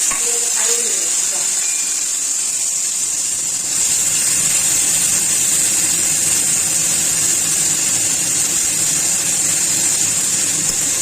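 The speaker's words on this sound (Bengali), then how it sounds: "পেঁয়াজ বাটাটা লাল লাল করে ভেজে নেব।" Onion paste frying in oil with a bay leaf for a katla fish curry, a steady loud hiss and sizzle that starts after a brief quieter moment and runs on evenly throughout.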